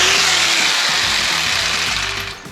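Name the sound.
corded jigsaw cutting plasterboard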